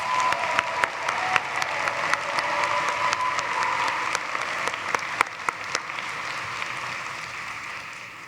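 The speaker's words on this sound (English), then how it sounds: "One more round of applause, please." A graduation audience applauds the class of 2023 of a health sciences and public health school, a dense, even wash of clapping from a large crowd that holds steady throughout.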